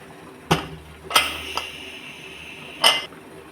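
Several sharp metallic clanks of a lid set down on a cooking pot of boiling dal, spaced irregularly over a few seconds in a quiet room.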